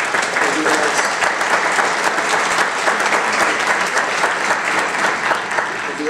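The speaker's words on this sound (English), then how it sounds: "And so we applaud you for your support." Sustained audience applause filling a theater-style hall after thanks to patrons and donors, dense steady clapping from many hands at close, even loudness throughout with no break.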